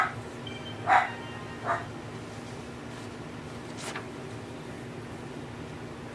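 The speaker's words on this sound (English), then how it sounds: "Excuse my dog for barking." A dog barks a few times in the background, faint and somewhat distant, over a steady low room hum; the barks are brief and spaced apart.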